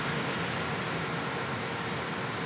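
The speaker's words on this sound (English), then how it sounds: "This is no ordinary jet boat. The engine is out of a Black Hawk helicopter." Jet boat powered by a Black Hawk helicopter turbine engine, on water near Whangarei: a steady, loud turbine roar and rushing broadband hiss filling the whole stretch without pause, no voices.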